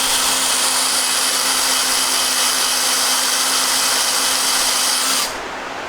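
A power drill runs steadily while drilling out a seized part during restoration of a Monarch 10EE lathe, a loud continuous whine that cuts off abruptly near the end.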